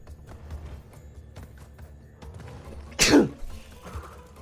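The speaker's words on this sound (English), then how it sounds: "these sneezes screwed me up" One sharp, loud sneeze bursts out close to the microphone from a player during a Crash Bandicoot speedrun, rising suddenly over faint game sounds and soft background noise.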